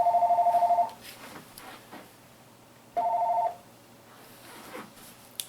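A telephone rings from a cold caller in two electronic trilling bursts a few seconds apart, the first about a second long and the second shorter, clear and close over quiet room noise.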